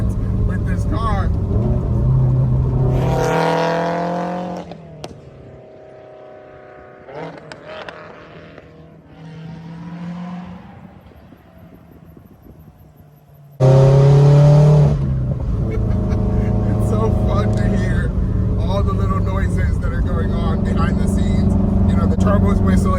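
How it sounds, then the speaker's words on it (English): Bagged Subaru WRX turbo engine revving loudly, its turbo whistling while the exhaust trumpets with pops and bangs in two strong bursts, a person talking over it during a quieter stretch between them. "Turbo's whistling, the exhaust is trumpeting, the pops and bangs are happening."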